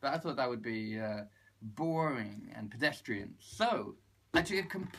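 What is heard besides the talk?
No everyday noises stand out.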